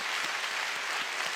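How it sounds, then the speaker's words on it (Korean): A room full of people at a church prayer service clapping steadily, dense and continuous throughout with no voices standing out. "박수로 한번 격려해 주시면 좋겠습니다"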